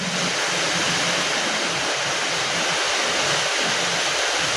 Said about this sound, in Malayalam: പുറത്ത് നല്ല മഴ